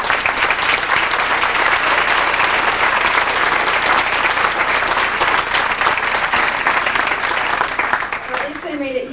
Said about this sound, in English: Don't you think we should give all the seniors a round of applause?